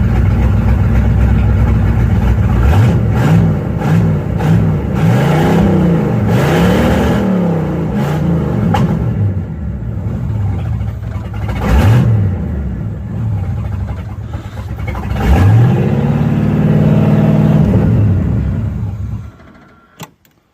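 A 1984 Chevrolet Camaro Z28 with a stalling problem, just restarted after a fire, idles loudly up close with repeated rising and falling revs before the engine cuts off near the end.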